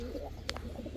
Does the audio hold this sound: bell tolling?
no